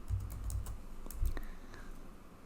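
Brisk bursts of clicking keys on a computer keyboard, close and fairly quiet, with short pauses between runs of typing and no voices.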